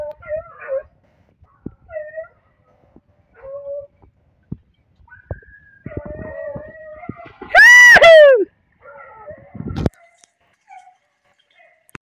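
Dogs playing with a paca by a flooded river whimper and yip in short scattered bursts, then one loud, rising-and-falling yelp cuts through near the middle before quieter whines resume.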